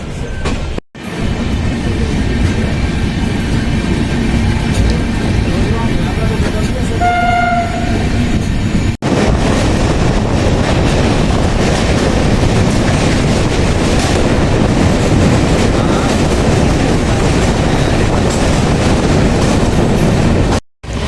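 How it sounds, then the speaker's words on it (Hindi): Aboard the Kota Katra Express running at full speed, a loud continuous rumble of wheels and carriages roars throughout, with a brief horn toot partway through and a sharp shift in the din midway. "ट्रेन अपने मैक्स पर चल रही है"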